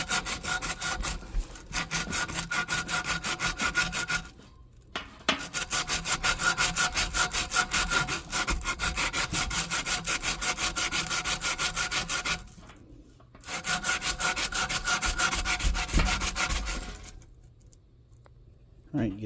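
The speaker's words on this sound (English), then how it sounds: "and sand this shaft." A blower motor shaft from a Rheem air handler is sanded by hand in long stretches of steady, harsh rasping, broken by two brief pauses, close and loud.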